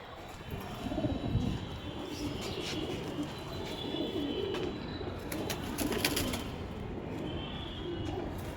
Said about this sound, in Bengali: এটা বেলজিয়াম রেসার পায়রা।